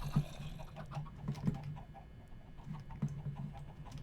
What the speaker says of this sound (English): let me look at the chicken farm here real quick